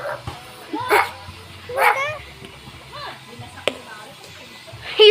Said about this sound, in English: he's barking right back at us